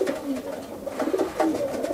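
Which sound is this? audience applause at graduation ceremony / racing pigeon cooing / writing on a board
racing pigeon cooing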